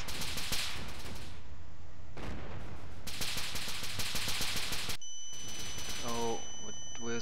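Video game gunfire, an AS-50 rifle and other weapons shooting out vehicle tires: loud rapid bursts of shots that stop and resume, followed by a clanking rattle and a steady tone at the end, with no talk.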